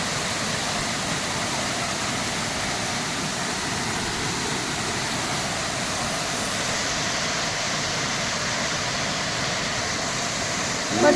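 A hidden waterfall pours in a continuous, even roar of rushing water that fills the whole scene, close and steady throughout with no breaks.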